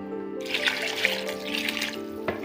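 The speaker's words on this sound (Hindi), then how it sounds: "और अब इसमें हम पानी ऐड करेंगे, तो थोड़ी इसको भिगोएंगे।" Water pours steadily onto soaking dahi bhalla dumplings in a kitchen, a close, continuous splashing stream with a faint electronic hum behind it.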